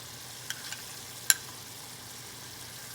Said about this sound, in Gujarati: આમાં આપણે 2 ચમચા આપણા જે ક્રીમના છે અહીંયા નાખી દઈએ.